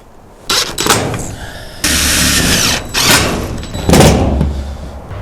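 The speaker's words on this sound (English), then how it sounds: "I'll go ahead and pre-drill the whole stack" A power drill pre-drills through a stack of metal roofing panels at an outdoor post and beam barn build. Loud, close bursts of whirring and grinding stop and restart several times.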